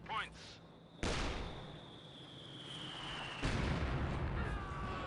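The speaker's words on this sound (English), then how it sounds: "That mortar team has wiped out 2 squads" Mortar team firing during a Company of Heroes 2 match: a sharp launch blast followed by a long ringing decay, then a second heavy impact a few seconds later, with speech mixed in.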